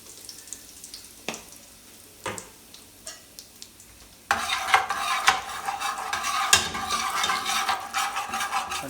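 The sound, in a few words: curry powder frying in hot oil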